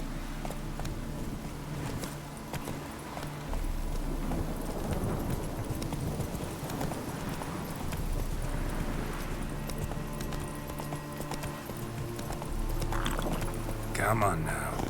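Roach, the horse in The Witcher 3, gallops with a brisk clip-clop of hooves that surges and eases in waves over a low rumbling game ambience, ending with a sharp clatter.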